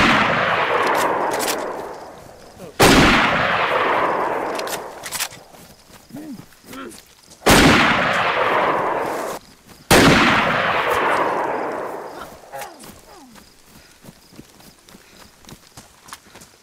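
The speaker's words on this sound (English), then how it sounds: "I shot him with the bullet." Four loud, sharp gunshots ring out in DayZ on PS5, each followed by a long decaying echo, spaced a few seconds apart, with footsteps and movement noise in the gaps between them.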